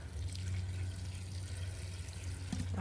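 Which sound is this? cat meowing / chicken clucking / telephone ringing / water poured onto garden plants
water poured onto garden plants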